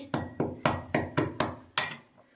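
Cloves and black peppercorns are pounded by hand, seven sharp, evenly spaced thuds ringing out one after another, close and clear, the final blow the loudest before silence.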